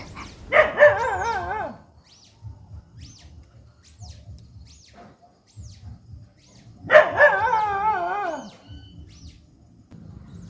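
Two drawn-out, wavering bursts of dog barking, several seconds apart, with faint low rustling between them.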